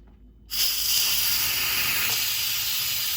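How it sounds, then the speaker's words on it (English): An Instant Pot's valve is opened for a manual quick release after cooking spaghetti, and steam bursts out in a loud, steady broadband hiss that starts abruptly and keeps going without a break. "It said to do manual quick release, so I am going to go ahead and open the valve."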